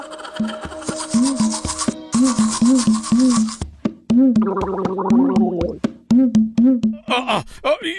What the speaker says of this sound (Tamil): ஏற்கனவே பிரஷ் பண்ணிட்டா மறுபடியும் பிரஷ் பண்ண வச்சிட்டல